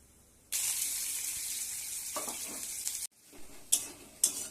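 Nigella seeds drop into hot oil for a tilapia curry and set off a sudden loud sizzle that hisses steadily for a few seconds, then cuts off, followed by a couple of sharp pan and utensil knocks.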